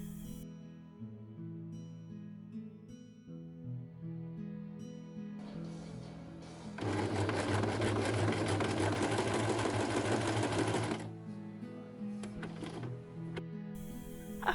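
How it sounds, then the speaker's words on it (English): A sewing machine zigzag stitches the seam allowance of a fray-prone blouse fabric, running steadily and loud for a few seconds mid-clip over softer background music, with quieter mechanical ticking before and after. "because this is a rather fray prone fabric, I zigzag stitched the seam allowance."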